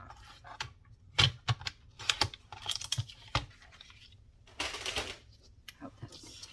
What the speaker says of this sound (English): I'm just going to cut off